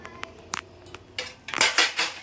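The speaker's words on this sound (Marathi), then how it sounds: "तर तुम्हाला भांडी दाखवते" Heavy, thick metal pots and utensils, each roughly one to one and a half kilograms, clank and scrape as they are handled up close, scattered knocks building into louder clattering near the end.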